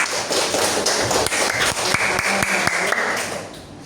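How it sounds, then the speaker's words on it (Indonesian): A group of classroom students applauds together, a dense, steady burst of clapping with a few sharper taps standing out, fading slightly at the very end. "Oke, bagi kelompok yang sudah berjuang, tepuk tangan semuanya."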